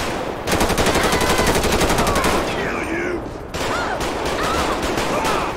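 Sustained automatic gunfire in Grand Theft Auto V with a police mod, rapid shots rattling loudly and evenly for several seconds, pausing briefly and resuming in choppier bursts.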